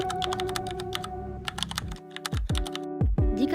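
Rapid keystrokes on a computer keyboard entering a token number, a quick irregular run of close crisp clicks, then a few spaced heavier presses near the end.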